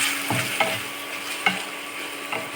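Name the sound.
green chillies sizzling and being stirred in a pan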